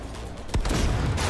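Heavy video-game gunfire in Cyberpunk 2077: a sudden loud blast about halfway through, followed by a dense, rumbling volley of shots that stays close and fills the rest of the moment, with no talk over it.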